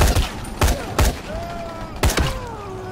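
Gunfire in the zombie video game Dying Light: four sharp, loud shots at irregular intervals, each a broadband crack with a booming low thump, with a faint rising whine between them.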